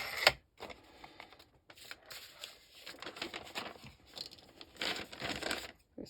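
Scissors cut freezer paper for a journal pocket, giving close, quiet crinkling and snipping in irregular bursts with short pauses between cuts.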